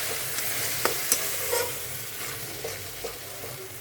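Ginger, cumin and green chili paste fries in hot oil in a pan for a fish curry, giving a steady close sizzle with occasional scraping taps as a spatula stirs it.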